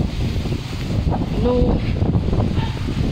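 Strong wind after Typhoon Kristine roars steadily and loudly in the open, with gusts rising and falling, while a voice speaks briefly over it.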